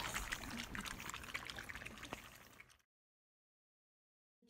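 Goat milk poured from a container into a bowl, a close, steady liquid splash and trickle lasting under three seconds before stopping abruptly into silence.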